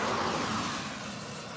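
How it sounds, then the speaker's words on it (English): A police car drives past near a creek, a broad steady road rumble and tire hiss that slowly fades as it moves away, with no voices over it. "There goes the police."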